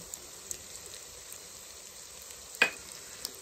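Ginger garlic paste frying with tomato for a Bengali prawn pyazkali curry, a faint steady sizzle with a few soft stirring ticks and one sharper scrape of the spoon near the end.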